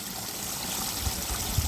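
Water from koi pond shower spray bars pours at 18,500 litres an hour in a steady, close, even rushing hiss with no break.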